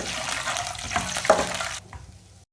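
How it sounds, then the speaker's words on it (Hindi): Peanuts sizzle and rattle in hot oil in a pan while being stirred for gur wali seviyan, a dense close frying hiss with a scraping stir that cuts off sharply near the end. "मूंगफली को भी 1 मिनट के लिए रोस्ट कर लेंगे"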